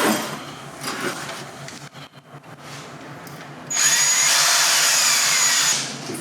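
A power drill whirs loudly into plasterboard for a couple of seconds after quieter handling noises, steady and close.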